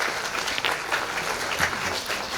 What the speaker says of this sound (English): Let's welcome him with a huge round of applause, please.